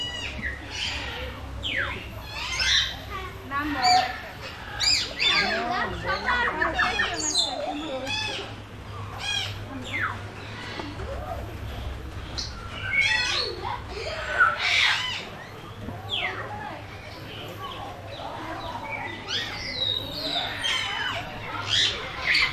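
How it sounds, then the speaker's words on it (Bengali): Many birds call throughout a large safari park in Gazipur, a dense mix of squawks, chirps and hoots overlapping continuously near and far, with a low steady hum underneath. "এখানে পাখির শব্দে চারিদিকে মুখরিত হয়ে আছে"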